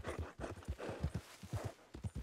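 Horse hooves clip-clop at a steady trotting rhythm in the video game Red Dead Redemption 2, close and fairly loud, with no talk over them.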